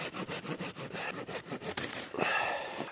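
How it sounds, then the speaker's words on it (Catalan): Rhythmic back-and-forth strokes of a hand saw cutting firewood outdoors in the mountains, close by, then a rougher scraping rasp at the end. "jo estic serrant aquí"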